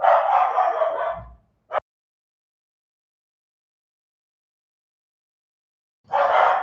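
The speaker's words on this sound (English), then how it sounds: "Sorry, my dogs are just barking" Dogs barking indoors in two loud bursts separated by a long silence, with a short yip in between.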